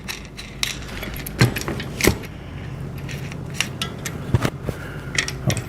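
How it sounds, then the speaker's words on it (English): Bolts are unscrewed while assembling a VEVOR mountain bike, giving small metallic clicks, taps and rattles of tools and parts scattered irregularly at close range. "Now I'll unscrew these bolts real quick."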